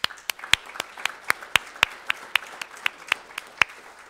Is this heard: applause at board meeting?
yes